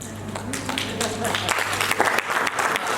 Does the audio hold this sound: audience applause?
yes